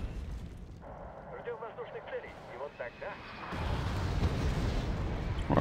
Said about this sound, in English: We're also receiving a lot of artillery and airstrike on the head, which is not particularly friendly.